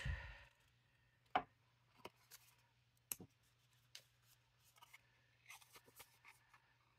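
Quiet, close snips of small scissors trimming material for a handmade wallet come in scattered single cuts against a low steady hum, with no talking.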